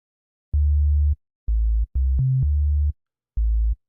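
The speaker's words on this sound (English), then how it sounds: "just like with the utility bass, sine wave is perfect for that." Deep, pure sine-wave synthesizer bass tones play in short sustained notes with gaps between them, one note briefly stepping up in pitch, clean and electronic, designed for dance music.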